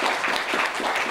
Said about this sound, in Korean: 여러분 한 해 동안 아껴뒀던 박수를 이 시간에 매우 매우 막 쳐주시기 바랍니다